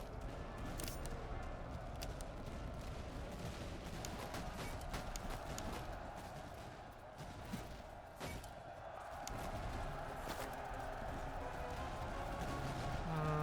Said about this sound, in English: Okay, open fire.